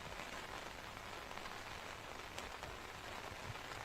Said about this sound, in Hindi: बारिश अब आना स्टार्ट हुआ है